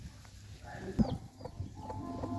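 Domestic chickens feed on scattered rice, giving off a few soft clucks and one sharper call over a quiet, faint background.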